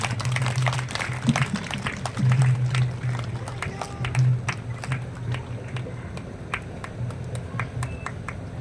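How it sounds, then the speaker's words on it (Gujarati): Scattered audience clapping welcomes a guest with a bouquet at a district-level Kala Mahakumbh arts event at Model Day School, Uttampura, sharp claps over a steady low hum in a large hall. "તાળીઓ બંધ ન થવી જોઈએ."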